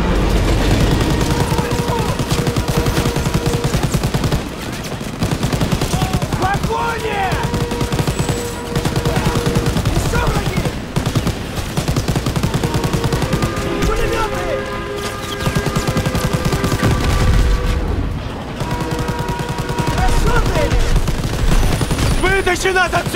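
Continuous gunfire in Call of Duty: WWII, dense bursts of machine-gun and rifle fire that go on for the whole stretch, loud and busy, with shouted voices and battle noise mixed in.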